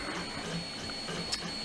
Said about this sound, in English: The thing that's printing in the background right now, which is just over there on the printer, is the main keyboard.